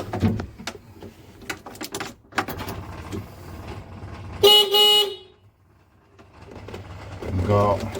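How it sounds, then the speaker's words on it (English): A Volvo digger's horn sounded by its button, one short blaring tone in the middle of the stretch, set among workshop clicks and knocks, with a person talking nearby. "Got the horn working on the button here."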